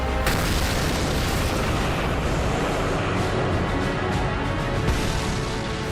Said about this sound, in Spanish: Me quedé asombrado y luego escuché una explosión.